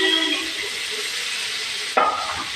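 Onion and tomato sauté in a hot pan with a continuous hissing sizzle, broken by a brief stirring scrape near the end.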